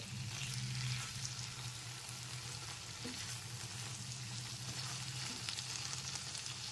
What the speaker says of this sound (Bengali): কসুরি মেথিটা খুব ভালো মতো একবার মিশিয়ে নিচ্ছি